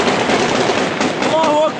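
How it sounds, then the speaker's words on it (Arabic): Rapid crackling gunfire aimed at street protesters rattles through a noisy outdoor scene in Homs, with voices shouting in the background throughout. "إطلاق نار كثيف على المتظاهرين."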